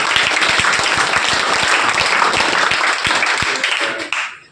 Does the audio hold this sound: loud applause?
yes